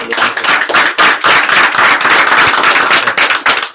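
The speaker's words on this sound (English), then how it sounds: "So we clap loud in our office." Trainees in an office at a Cutco training session clap loudly and continuously, a dense, steady burst of many hands close by with no talk over it.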